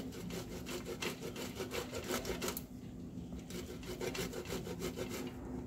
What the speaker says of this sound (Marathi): ही जाडीवाली आहे, याने किसायचं आहे। मी किसून घेते। इथे मी याने किसून घेते।